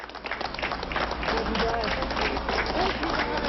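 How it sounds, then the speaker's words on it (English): New York City police applauding out-of-state nurses leaving their hotel, a steady crowd of clapping heard as a continuous wash under a news anchor's voice. "New York City police applauding out-of-state nurses leaving their hotel for their final shifts"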